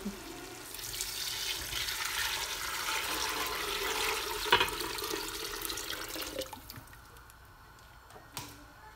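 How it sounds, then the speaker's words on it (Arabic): Shrimp-shell broth is poured into a pot of fish soup, a sustained liquid splashing and gurgling that runs for several seconds, then tapers off to a few drips and small clinks. "دابا غادي نكب كاع داك لو بويون ديالنا هذا هذاك لو بويون اللي درنا ديال القشور ديال الكروفيت"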